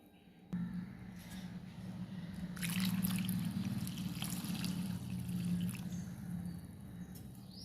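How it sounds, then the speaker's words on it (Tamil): Water poured into millet flour (kambu and ragi) in a vessel and mixed for koozh, a steady close trickling and sloshing that starts abruptly and continues throughout, with brief splashier bursts midway. "தண்ணி ஊற்றி இதையும் கரைச்சி வச்சுக்கலாம்."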